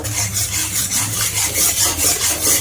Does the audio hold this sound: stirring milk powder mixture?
yes